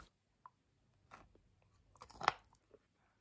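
Cadbury Milk Tray chocolates are chewed close to the mic in a quiet room. There are a few soft bites, then a sharper crunchy burst near the middle, and no talking.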